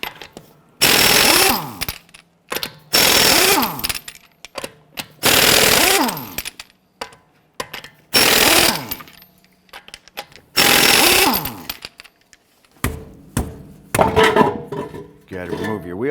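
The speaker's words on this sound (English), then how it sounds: "let's loosen and remove our lug nuts." An impact wrench with a 22mm socket loosens lug nuts on a front wheel of a 2009-2015 Honda Pilot, five loud rattling hammering bursts separated by short pauses, followed by clinks and handling noises.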